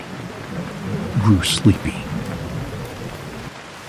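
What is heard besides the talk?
heavy rain falling outside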